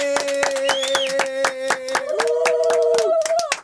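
Rhythmic hand clapping, steady and sharp, over a sustained musical tone or hum that shifts pitch partway through.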